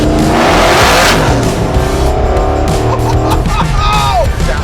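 A 1000-horsepower Wegner-built LS3 with a 2.9 Whipple supercharger in a patina C10 truck roars and revs hard nearby, loud and continuous, with a voice briefly audible over it.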